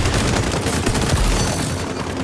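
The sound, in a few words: rapid-fire gun shooting in a video game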